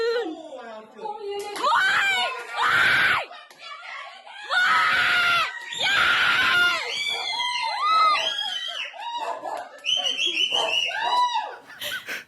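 A family screams and cheers at home while watching a televised athletics relay race, with repeated bursts of loud, excited shrieks, shouts and whistling layered over children's and adults' voices.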